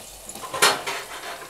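Suran (elephant foot yam) is stirred and roasted in a pan, with a few scraping strokes of a spoon against metal over a soft sizzle, one stroke louder than the rest, no talk.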